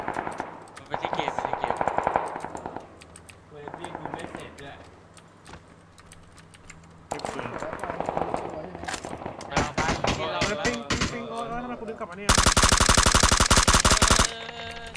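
Gunfire in the battle royale game PUBG: scattered shots and short automatic bursts build to a loud, dense machine-gun volley near the end, with voices talking throughout.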